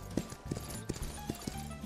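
Horse hooves clip-clopping in the video game Myth of Empires, a quick run of hollow, evenly spaced knocks at close range over a low background hum.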